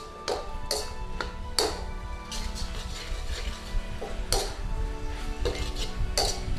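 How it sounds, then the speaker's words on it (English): Beef stirred in a hot pan for a Chinese-style beef and mushroom stir fry, with repeated sharp clinks and scrapes of a utensil against the pan over a soft, steady background. "And then in with our beef. Get our beef in there. Let's give this a stir in."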